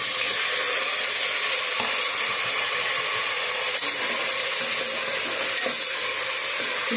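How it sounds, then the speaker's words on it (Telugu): Onions and green chillies fry in a hot pan, giving a loud, steady sizzle and hiss that runs unbroken throughout, with a few faint stirring scrapes. "ఇప్పుడైతే ఉల్లిపాయలు వేస్తున్నాను. ఉల్లిపాయలు, పచ్చిమిరపకాయలు రెండు కలిపేసి వేసేస్తున్నానండి"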